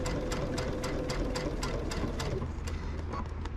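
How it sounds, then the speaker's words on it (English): A long-arm sewing machine stitching down quilt binding runs in a steady rapid chatter, with a rhythmic pattern of regular needle clicks over a low motor hum, close up and without talk. "Turn it so that I'm about 45-degree angle, and just sew it down."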